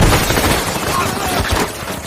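Gunfire in an action film scene, a dense loud burst of shots blended with music and effects, continuous and close for the whole moment.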